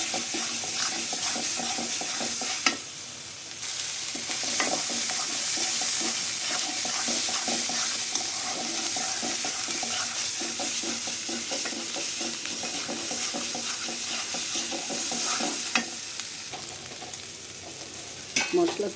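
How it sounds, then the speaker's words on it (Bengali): Spice paste sautéed in a pan for a fish curry, a constant close sizzle with repeated scraping and knocking of a spoon stirring, with a brief pause near the start. "মশলাকে ভালো করে কষাতে হবে।"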